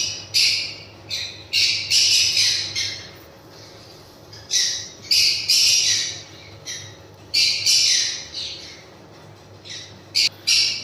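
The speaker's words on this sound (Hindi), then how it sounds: "तो देख लिए आप लोग बिल्कुल एक्टिव बर्ड्स ठीक है" Pineapple conures and cockatiels squawking in a cage, harsh close bursts of shrill calls repeating in irregular clusters with short quiet gaps between.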